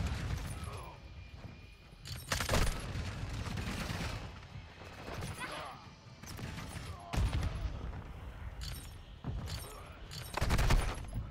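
Repeated bursts of automatic gunfire in a Call of Duty kill confirmed match, sharp volleys separated by short pauses, loud and close, with no talking.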